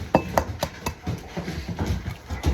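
Eggs are cracked one after another on a hard edge at close range, a run of sharp tapping knocks in an uneven rhythm with faint clinks between.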